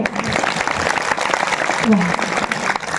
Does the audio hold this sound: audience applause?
yes